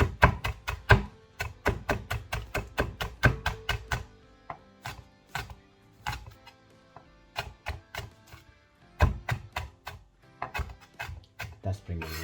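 A knife chops spring onion finely on a cutting board, with bursts of rapid, sharp, close taps followed by slower, spaced strikes and a short pause midway.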